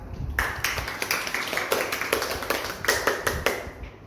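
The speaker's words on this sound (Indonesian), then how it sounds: "Oke, kita beri aplaus dulu ya untuk Tima" A small classroom group applauds a student, a brisk run of overlapping hand claps at a steady pace, fairly near, lasting a few seconds without talk.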